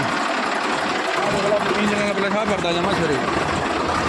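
A Swaraj 855 tractor engine drones steadily throughout, loud and close, with someone speaking over it.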